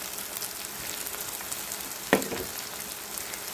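A soft, steady sizzle of chopped tomatoes sautéing in a pan, with one brief clatter partway through.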